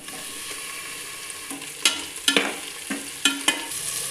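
Tomatoes frying with softened onions in a pan for chicken biryani, a continuous bright sizzle with several sharp scraping stir strokes in the second half.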